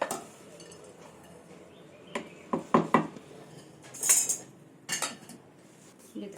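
Roasted ingredients, coriander leaves and grated coconut are tipped into a mixer grinder jar for a chutney, giving several scattered close clinks, taps and scrapes of utensils against the jar over a quiet background.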